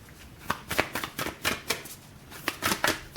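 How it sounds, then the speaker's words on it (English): A deck of playing cards is riffled and bridged repeatedly, giving quick, crisp bursts of fluttering snaps in an uneven rhythm, close and clear with no talking. "Let's shuffle it a little bit more."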